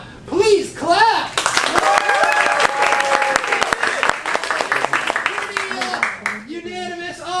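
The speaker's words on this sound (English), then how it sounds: "So if you think Suda Shenanigans won that round, give them a round of applause." An audience at a live comedy game show claps and cheers for a winning team, a dense burst of applause with whoops rising over the host's voice, then tapering off as talking resumes.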